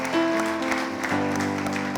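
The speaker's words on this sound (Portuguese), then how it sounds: "Você pode aplaudir Jesus porque Ele merece." A church congregation applauds during a worship service, with steady, dense clapping over sustained music and keyboard notes.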